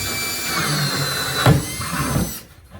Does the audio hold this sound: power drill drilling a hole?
yes